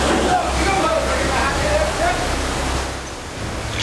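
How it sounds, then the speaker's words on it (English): Water gushes and sloshes through blast holes in a flooding Royal Navy battleship damage-control simulator, a loud, steady roaring torrent with broad splashing noise and faint shouting voices underneath. "The Unbreakables must race to stop the gushing torrents by hammering wooden wedges into the blast holes"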